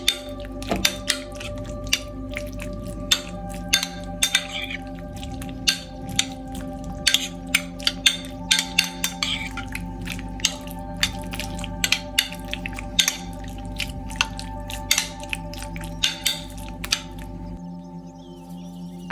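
Raw chicken being mixed by hand with ginger garlic paste and egg white, giving repeated wet squishing and slapping sounds in an uneven rhythm, close and fairly loud, with a steady low hum behind.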